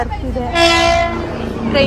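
A train passes with a sustained, loud horn blast in the middle and a shorter note at the end, while people talk nearby, near a museum.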